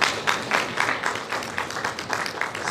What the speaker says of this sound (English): Give them, all of them, a round of applause.